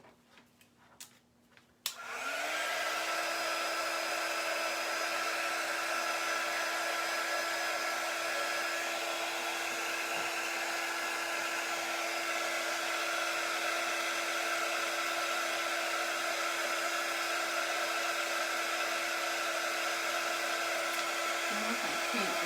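A hair dryer drying chalk paint on a craft piece switches on after a couple of seconds of faint handling noise, then runs as a loud, steady close-up whir to the end.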